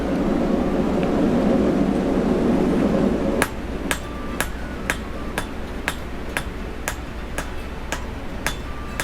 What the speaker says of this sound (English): I find the blunt cross peen works very well for this.